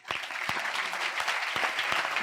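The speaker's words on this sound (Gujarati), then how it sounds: "એક વખત તાળીથી વધાવીએ." An audience claps steadily through a religious discourse by a Gujarati swami, a dense wash of applause at moderate volume with no talk over it.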